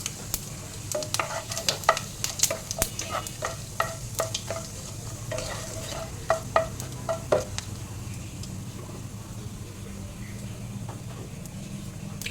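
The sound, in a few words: dried chilli, bay leaf, cumin and asafoetida frying in a wok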